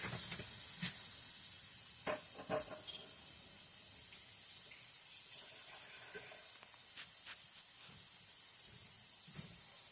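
Kitchen sink tap running steadily while a bowl is rinsed after cooking burrito filling, a continuous close hiss of flowing water with a few faint clinks and knocks in the first seconds, no talking.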